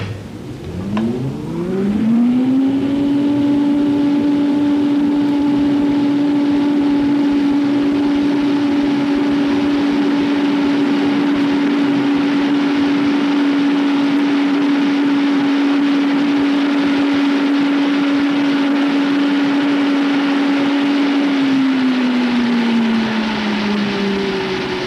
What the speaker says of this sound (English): When I start the blower, I am going to increase the speed until the drag force acting on the airfoil reaches 1 unit on the scale.